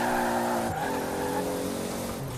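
A car engine revs in a video game street race involving a Supra and a Mustang, a loud steady drone that drops sharply in pitch partway through, as on a gear change, then builds again.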